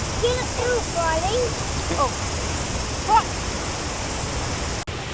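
A waterfall roars in a steady, dense rush of water, with a few distant voices and calls rising faintly over it.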